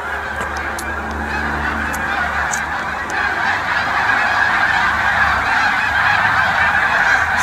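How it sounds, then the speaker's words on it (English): A large flock of snow geese honking in a noisy, continuous chorus from a field some distance off, loud and dense throughout, with no talk. "Alright, now all this racket is snow geese."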